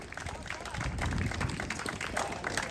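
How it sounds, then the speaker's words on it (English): A crowd applauds officers at a 109th Precinct barbecue party in Flushing, New York; dense, steady clapping fills the space at moderate loudness, with some crowd noise mixed in. "Can I have a round of applause for all the officers here that are keeping our community safe?"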